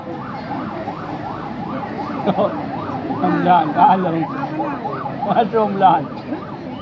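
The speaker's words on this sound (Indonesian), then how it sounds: "Jangan mengganggu ambulan, tolong dikasih jalan jamaah." A wailing ambulance siren sweeps up and down repeatedly at a steady pace, with people talking and crowd noise from a large religious gathering rising over it.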